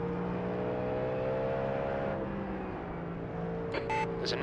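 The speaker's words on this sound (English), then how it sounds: "God, that Mustang sounds good." Ford Mustang race car engine in a racing video game, a loud steady drone with layered harmonic whine held throughout, easing slightly midway, with brief electronic beeps near the end.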